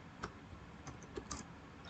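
Faint, sparse keystrokes tapped on a computer keyboard in a quiet room, a few separate clicks spread over two seconds.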